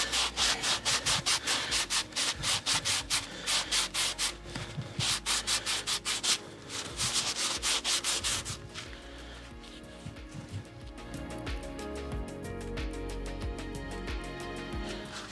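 A Scotch-Brite pad scrubs surface corrosion off brake caliper pins on a Chevy Caprice PPV in fast, even back-and-forth strokes, loud and close at first, then turning into softer, quicker rubbing.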